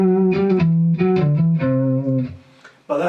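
A short melodic run in the Lydian mode on an effects-heavy electric guitar, a string of sustained notes with a spacey, shimmering tone, stopping briefly before one more note sounds.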